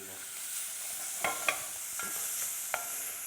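Bacon fries in melted butter for a leek and bacon cheese bake: a soft, quiet sizzle under a few sharp spits and clicks from the pan.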